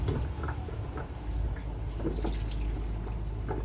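Sweet potatoes, about three kilos, sloshed and rinsed in water in a home kitchen, with soft dripping, splashing and patter at close range, fairly quiet and continuous.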